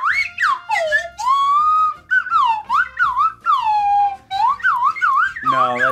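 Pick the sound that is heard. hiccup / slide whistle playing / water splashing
slide whistle playing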